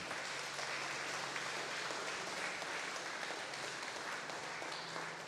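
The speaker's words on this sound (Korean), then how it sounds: "잠시 자리에서 일어나시면 우리 박수로 환영하겠습니다." A church congregation applauds to welcome a visiting deaconess, a steady, even wash of many hands clapping throughout, with no talk over it.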